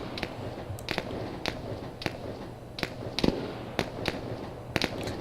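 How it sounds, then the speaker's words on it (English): Grenades and grenade launcher rounds go off in an ARMA 3 battle as a scatter of distant, muffled pops and cracks, roughly a dozen irregular bursts over a steady low rumble. "Grenade launcher going off right by the independent forces."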